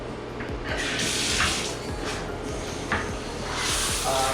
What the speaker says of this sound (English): And also I'm gonna use this hose.